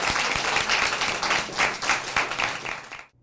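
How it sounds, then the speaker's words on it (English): A crowd at a Democratic watch party in Eastern Carolina's Lenoir County applauds Kamala Harris in a thick, continuous burst of clapping that cuts off abruptly after about three seconds. "applause for now Democratic presidential candidate Vice President Kamala Harris could be heard even here in Eastern Carolina"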